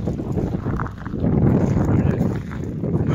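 Icy north wind blowing hard at the seashore of Vityazevo on an overcast morning, a steady loud roar with microphone buffeting that surges and eases throughout, no voices.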